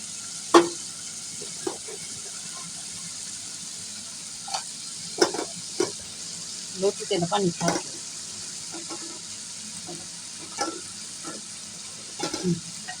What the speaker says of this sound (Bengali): সবগুলো লতি দিয়ে দিলাম এখন নেড়ে চেড়ে মশলার সাথে মিশিয়ে নেই